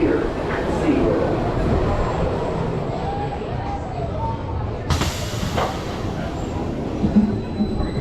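The Ice Breaker roller coaster train at SeaWorld Orlando rolls forward onto a moving transfer track, a steady mechanical rumble with a sharp clunk partway through, heard near and loud from on board.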